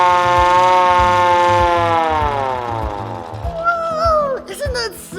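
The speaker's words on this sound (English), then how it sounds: "And turn that crank. What? Okay, this is the siren." Hand-cranked siren on an old fire truck lets out a loud, close wail that slowly winds down in pitch, with brief voices near the end.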